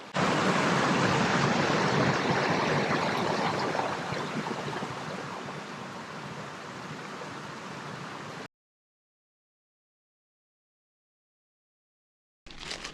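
Wattle Camp Creek flowing on a bush hiking track, a loud broadband rush of running water that fades somewhat, cuts to silence for several seconds, then briefly returns.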